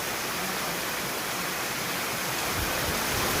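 Heavy monsoon rain and rising floodwater at a house, steps going under. A steady, dense wash of roaring water and downpour fills the short stretch without pause, close and fairly loud, with no voices.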